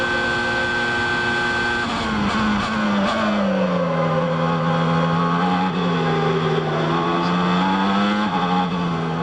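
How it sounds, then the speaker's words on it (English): Formula 1 car at the 1993 Belgian Grand Prix downshifting, a loud, continuous high-pitched engine whine stepping down in pitch through gear changes, with a sustained roar and no talk. "Now listen to him downshift."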